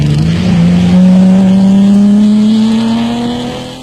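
A Toyota Hilux racing in the 1991 Mmabatho Sun off-road race in South Africa: a loud, close engine revs hard in one long, steadily rising pull, then eases slightly as it fades toward the end.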